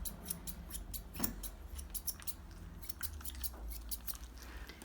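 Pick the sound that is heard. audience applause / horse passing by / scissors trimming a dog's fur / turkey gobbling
scissors trimming a dog's fur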